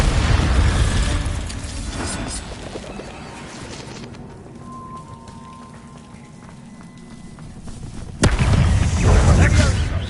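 A Bombarda spell explosion in the Hogwarts Legacy video game: a loud, sudden blast bursts in near the end, following a dense spell of game noise and a calmer stretch.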